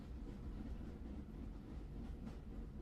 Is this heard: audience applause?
no